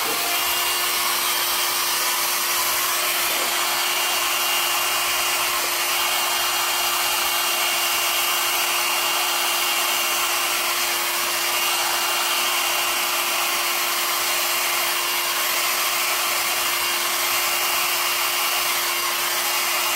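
A hair dryer blows steadily across acrylic pour paint with cell activator, a loud continuous airy whoosh with a fixed motor whine, close by and unbroken with no talking.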